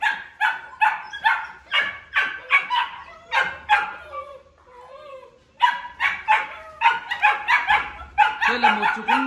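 Red Belgian Malinois puppies bark in rapid, high-pitched bursts, loud and close, with a short gap of whimpering before the yapping resumes.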